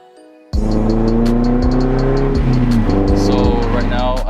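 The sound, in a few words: 1995 Nissan 240SX engine with custom exhaust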